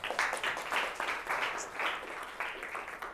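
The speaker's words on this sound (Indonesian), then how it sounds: "Tepuk tangan buat videonya." A small group, likely a classroom, claps for a video, with a few uneven bursts of hands rising and falling at modest volume.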